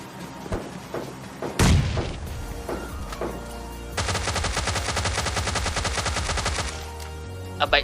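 Explosion and gunfire in the PUBG Lite battle royale game: a sharp heavy blast near the start, scattered shots, then a long sustained burst of rapid automatic fire, loud and close.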